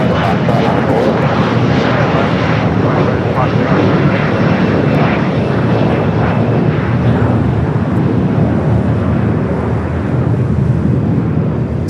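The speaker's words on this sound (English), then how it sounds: "It's American Eagle, SkyWest E-Jet is taking off here on the south." An American Eagle SkyWest E-Jet airliner takes off on the south side at LAX, a loud, sustained jet roar filling the whole stretch, with voices faintly underneath.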